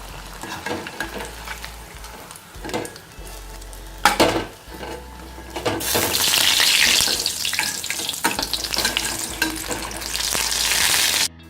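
Sweet jackfruit fritters (chakka pori) fry in hot oil, giving a continuous loud sizzle that swells louder in the second half, with occasional clinks of a utensil against the pan.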